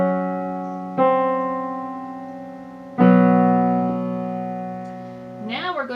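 Sustained piano chords from the Adagio Sostenuto of Rachmaninov's Piano Concerto No. 2, two full chords struck and left ringing to decay, with a rising run of notes starting at the end.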